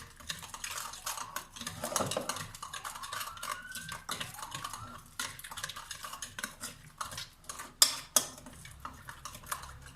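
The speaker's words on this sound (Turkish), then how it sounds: "Güzelce karıştırıyorum" Olive oil marinade for lamb chops stirred in a bowl, giving a run of scraping utensil clinks and light sloshing with a few sharper knocks near the end.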